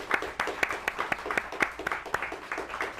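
A small studio audience applauds at a television talk show taping, steady scattered clapping at moderate distance with no talk over it.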